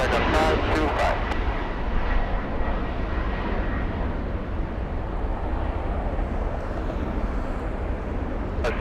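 A jet airliner roars steadily on its takeoff roll at LAX, a loud, broad rumble that holds throughout. Radio chatter sounds briefly at the start.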